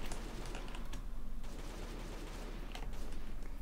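Rapid bursts of AK rifle fire in the survival game Last Day on Earth, a dense, steady stream of shots that pauses briefly before resuming at an even level.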